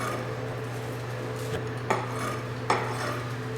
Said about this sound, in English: I'm just going to flatten them with my knife and then run my knife through them like this.